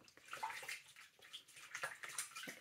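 Water splashing and rinsing a foaming exfoliating scrub off skin over a bowl of water, a steady close wet swishing with small splashes throughout.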